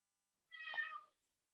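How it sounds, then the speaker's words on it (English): A single cat meow, drawn out for about half a second, close and clear in otherwise complete silence. "she's meowing so loud"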